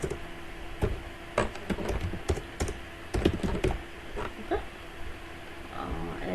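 An else statement being typed in Python on a computer keyboard, irregular bursts of close key clicks and taps over a steady room hiss, with no talking.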